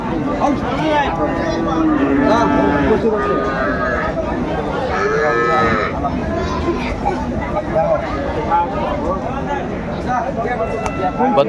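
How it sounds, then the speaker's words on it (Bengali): A milking cow and her calf at a village cattle market in Aftabganj, Dinajpur, Bangladesh, with a few drawn-out lowing calls rising over steady crowd chatter and nearby talking. "চমৎকার গাভী বাছুর আমরা দেখছিলাম"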